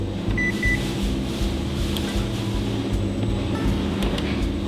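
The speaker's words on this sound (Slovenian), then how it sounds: "zato vodo damo v mikrovalovko" A microwave oven heating water runs with a steady, loud mechanical hum, with a faint short beep early on.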